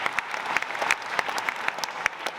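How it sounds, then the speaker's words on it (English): A crowd claps steadily, a dense patter of many hands with a few sharper claps standing out, fairly close and sustained throughout. "give yourself a big applause"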